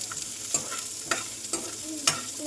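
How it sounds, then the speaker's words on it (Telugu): Nalleru pieces stirred in a pan, with four sharp spoon scrapes against the metal at roughly half-second intervals over a steady frying sizzle, close and clear, no talking. "ఇప్పుడు వీటిని మంచిగా కలుపుకోవాలి"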